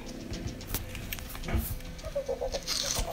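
A chicken in the Ark survival video game clucks in short bursts amid ambient game sounds, moderately loud with no talking over it.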